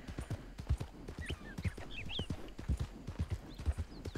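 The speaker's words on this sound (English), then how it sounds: "the horse will be able to ride up the ridge" Horse hooves clip-clopping steadily as a rider climbs a ridge in Red Dead Redemption 2, with rhythmic close thuds over a soft ambient bed and faint bird chirps in the background.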